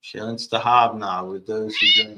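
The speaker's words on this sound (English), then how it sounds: "All right, that's a cat." A cat in a bar lets out a few loud, close meows that overlap with a person talking.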